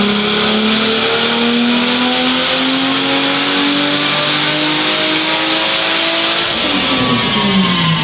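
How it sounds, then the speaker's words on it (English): A loud C5 Corvette V8 with a complete catback exhaust revs steadily, its pitch climbing, then drops and rises again near the end, with a deep throaty exhaust rumble throughout. "we knocked out a complete catback exhaust on this C5 Corvette"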